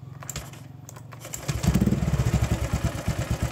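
An old Honda Vario 125 scooter with proper daily-use mods starts up partway through, settling into a steady, close idle with a soft pulsing rhythm after a quieter opening.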